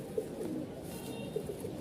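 Two pairs of Silver Lahori pigeons coo softly at close range, a few low rolling calls over faint background noise.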